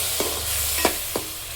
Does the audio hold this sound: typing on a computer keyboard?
no